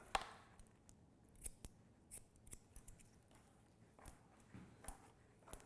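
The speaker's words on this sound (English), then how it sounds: "Combing and cutting" Hair scissors snip repeatedly during a textured crop haircut while the hair is combed, giving quiet, close, sharp clicks at an uneven rhythm with soft combing and handling noise between them.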